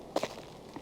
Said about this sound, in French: Le bruit de saut, c'est un bruit de pas dans du gravier quand même.